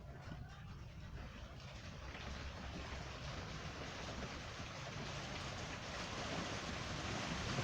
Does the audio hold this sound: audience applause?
no